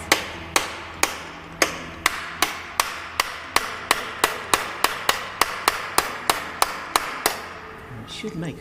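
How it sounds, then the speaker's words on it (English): Hammer blows on a chisel being driven to free the camshafts from a TVR engine, about eighteen sharp metallic strikes in a steady, fairly quick rhythm, close and loud, with no talking. "I'm literally just going to get a chisel."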